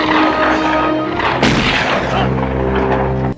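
Gunshot in a film scene, a sharp blast cutting through a dense, loud score with a lingering rumble, heard alone without voices.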